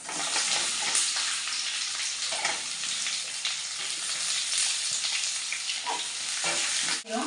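Chopped onions fry in hot oil with fennel seeds, cinnamon and bay leaf, a loud, continuous close sizzle with soft stirring movements throughout and a brief dip near the end.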